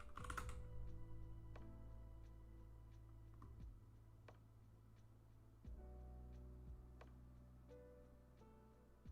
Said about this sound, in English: Alright, we'll just type in Zappa.